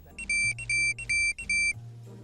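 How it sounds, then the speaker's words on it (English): A 1990s Tamagotchi electronic toy beeps in four short, loud bursts of shrill stacked tones over a low hum, with brief gaps between them and no talking. "they still make the horribly annoying electronic beeping sound constantly"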